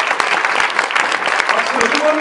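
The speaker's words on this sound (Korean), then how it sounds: "네 박수로 환영해 주십시오" An audience at a 2018 GPTI homecoming day loudly applauds to welcome returning missionaries, a close, busy patter of many hands with scattered sharper claps and voices underneath.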